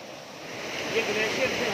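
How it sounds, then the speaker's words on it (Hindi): A fast-flowing glacier meltwater stream in the Usheri valley of Upper Dir, Pakistan, gives a steady, broadband rushing roar that slowly grows louder, with no voices over it. "थोड़ा नीचे साथ ही पानी का फ्लो बड़ा ही तेज है।"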